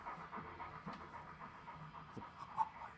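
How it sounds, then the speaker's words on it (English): A dog pants steadily somewhere behind, fairly faint, in quick breathy bursts over a low constant room hum. "Sounds like a dog"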